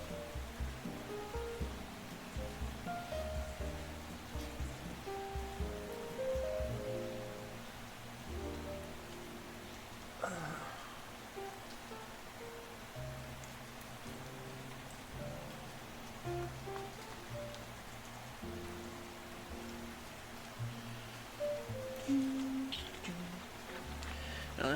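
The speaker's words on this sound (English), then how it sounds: "There's something relaxing about hearing the rain." Rain falling in the video game Deltarune, a steady soft patter and hiss running throughout beneath quiet game music.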